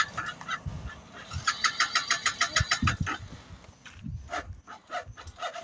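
A motorbike engine being kick-started, with repeated sputtering bursts that catch briefly and fade before another attempt, close by and loud with no talking.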